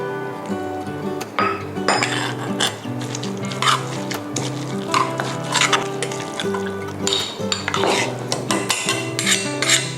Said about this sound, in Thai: โขลกน้ำพริกนะคะ ให้ผสมเข้ากันดี